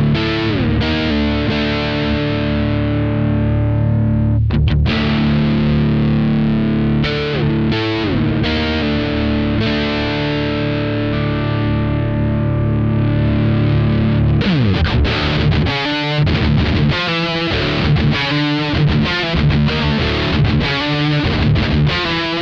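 An ESP LTD MV-200 electric guitar, a 2002 Korean-made model, plays through heavy overdrive distortion, sustained chords giving way to choppy palm-muted riffing, loud and close with no voices.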